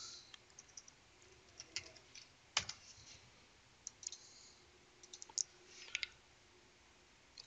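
Keys clack at a computer keyboard while a command is typed into a command prompt, a sparse run of quiet, close clicks with irregular gaps in a hushed room.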